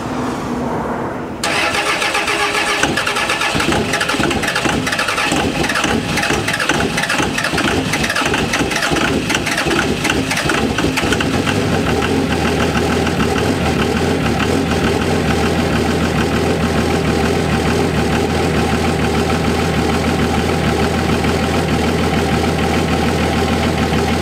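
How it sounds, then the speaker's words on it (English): A first-generation truck engine cold starts on a 28-degree morning, cranking briefly before catching with a rough, uneven roar, then settling into a steady, loud idle close by. "That's a cold start right there."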